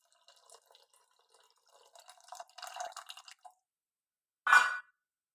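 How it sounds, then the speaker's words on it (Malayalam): Tamarind water poured into a pot of cooked tomatoes, heard as scattered faint drips and light clinks, then a short, close splashing burst near the end, with no talking. "പുളി ഒഴിച്ച് കൊടുക്കാം."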